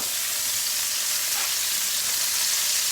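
Garlic, about a teaspoon, frying in a hot pan on a stove for chicken fried rice, giving a steady, bright, continuous sizzle that stays even and close throughout with no talking.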